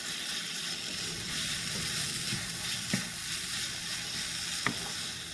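Fresh grated coconut stirred in a hot pan over a medium flame, a steady close sizzle with occasional soft scrapes of the spoon, no talking.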